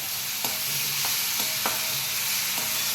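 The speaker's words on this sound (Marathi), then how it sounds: "कापलेली केळी पण घालणार आहे आणि तुपावर छान भाजून घेणार आहे" Sliced bananas frying in ghee in a pan for sheera, with a steady loud hiss of sizzling and a handful of evenly spaced spoon taps and scrapes as they are stirred.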